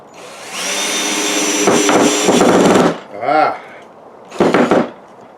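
A Phillips head wood screw is driven into pine by a power driver, giving a loud whirring drone of about three seconds followed by two shorter bursts.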